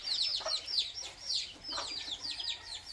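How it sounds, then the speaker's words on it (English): Chickens and roosters call in a Puerto Rico yard on a bright morning: a busy, overlapping run of short, high clucks and chirps repeats steadily throughout at close to moderate range, with no talking. "And the cute chickens and roosters."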